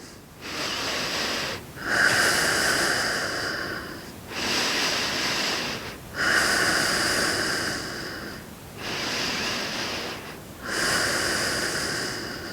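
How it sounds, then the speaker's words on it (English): Deep yoga breathing, slow loud airy inhales and exhales alternating in a steady rhythm, about six breaths, close and alone with no talk. "3 deep breaths"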